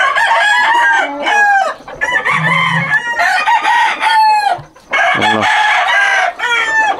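A young rooster, not yet fully grown, crows repeatedly and loudly up close in several bursts, with clucking and other fowl calls mixed in between.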